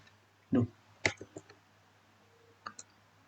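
A keyboard's enter key is pressed, giving a sharp close click followed by a few lighter taps, with another pair of small clicks later, set against a low steady hum.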